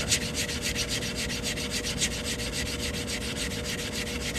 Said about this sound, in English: And I'm just sanding this edge real quick.